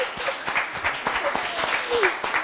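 Applause at the grand final of a sandwich-making competition, a steady patter of hand claps filling the room at moderate level with voices speaking over it throughout.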